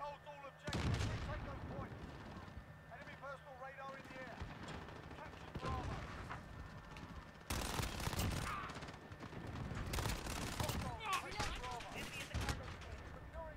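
Gunfire and explosions in a Call of Duty Modern Warfare multiplayer match come as repeated loud bursts and volleys over a busy game soundscape, while a player talks throughout.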